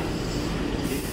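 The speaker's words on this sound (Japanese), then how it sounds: "2400系ですね、電車が到着しました。" Keihan 2400 series electric train arriving at Kyobashi station, a steady dense rumble of wheels and motors close by in the platform area.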